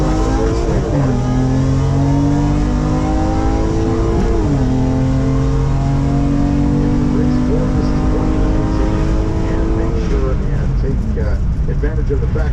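A Honda Accord race car with a swapped J37 V6 revs and accelerates loudly at a drag strip, its pitch climbing in steps as gears shift, with a second engine droning steadily underneath throughout.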